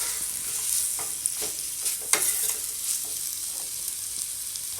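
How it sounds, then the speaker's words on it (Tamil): Raw banana slices sautéed with salt in a pan, producing a continuous bright sizzle broken by scraping stirs and a few soft knocks of a spatula. The frying is close and steady with no talk. "உப்பு சேர்த்து நல்லா வதக்கி விடுங்க"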